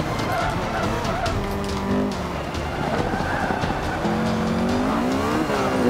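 A Honda race car in the Forza Motorsport video game is held in third gear through corners, its engine droning steadily with rising and falling pitch and tire squeal, loud and continuous.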